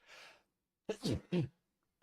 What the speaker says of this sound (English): Okay, sneeze.